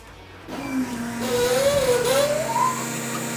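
Fuel pressure regulator on a turbo-swapped car during first start-up, a whirring mechanical hum with a wavering, rising whistle over a steady drone.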